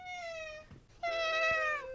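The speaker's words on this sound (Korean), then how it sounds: "이렇게 사람 좋아하는 고양이 처음 봤습니다." A friendly cat gives two drawn-out meows close by, the second longer and louder after a short pause, with no talk over them.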